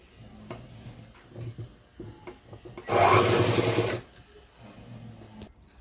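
Sewing machine stitching front and back garment parts together, a loud continuous whirring burst of about a second amid quieter handling and rustling noises.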